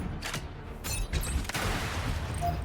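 Mech gunfire in the video game Mecharashi, a few repeated normal-attack shots cracking out in quick succession over dense, busy game sound, with no talking.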